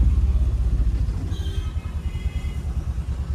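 Stop-and-go road traffic jam near roadwork in Satpur, with a steady close rumble of idling and creeping car and motorcycle engines, a brief faint horn-like tone midway, continuing alone without talk.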